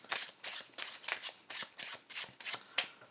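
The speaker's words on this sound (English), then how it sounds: "Then you can do some false shuffles or whatever." A deck of playing cards is riffle- or false-shuffled during a card trick, giving a steady run of about ten quick, crisp fluttering bursts, close and fairly loud, with no talking.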